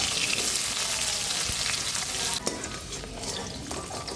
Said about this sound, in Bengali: এবার দেখো কুমড়োগুলো ভেজে নিচ্ছি